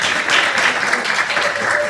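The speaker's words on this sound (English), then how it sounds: "Give him a big round of applause." An audience at a HARLEM WEEK banking and finance event applauds a guest in a full, close burst of clapping that carries steadily from start to finish.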